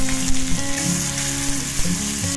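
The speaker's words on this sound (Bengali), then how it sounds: "পেঁয়াজটা আমার ভাজা ভাজা হয়ে গেছে" Chopped onions fry in a pan with cardamom and cumin for a catla fish curry, a steady close sizzle and crackle running without pause, with a few brief stirring scrapes.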